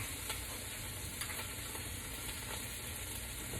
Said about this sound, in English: I'm gonna put it right in the pan. You're gonna get a little bit of smoke from everything there.